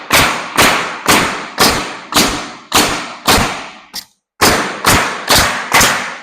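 A pneumatic nail gun fires nails into garage door boards in a steady series of about eleven sharp, loud bangs roughly half a second apart, with one brief gap and a weaker shot before the firing resumes.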